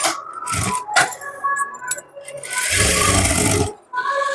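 A sewing machine stitching a blouse, short bursts of motor whir and needle clatter, with a longer steady run near the end; a voice talks in between.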